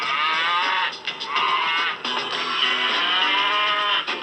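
Cattle on a ranch moo in long, drawn-out calls that overlap and repeat steadily for several seconds, loud and fairly close with no talking.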